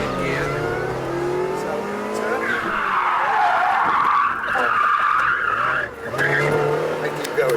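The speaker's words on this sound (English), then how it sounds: "Once it goes past 90 degrees, then clutch goes in, handbrake's off, and then you apply the opposite lock to let the front spin round." A car skids through a handbrake turn during driver instruction, a loud sustained tire squeal rising and sweeping in pitch over the engine's drone, close and continuous for several seconds.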